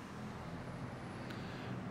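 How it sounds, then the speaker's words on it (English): Steady city traffic noise drifts in from outside an editorial office above a San Francisco bookstore, a continuous low rumble and hiss of distant vehicles with no distinct passes, fairly faint and without talk. "with some traffic noise which may punctuate the poems"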